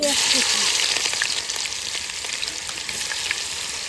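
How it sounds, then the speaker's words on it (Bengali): Steady, loud sizzling of onions frying in a wok, a continuous crackling hiss throughout with faint voice traces at the start. "একটুখানি নুন দিয়ে দেবো পেঁয়াজটা তাড়াতাড়ি ভাজা হবে"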